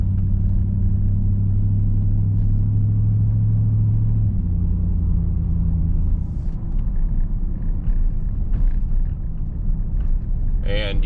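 A 2002 GMC Sierra 1500 pickup truck rolls along with a steady low engine rumble and road drone from inside the cab, the tone shifting slightly partway through as it drives on.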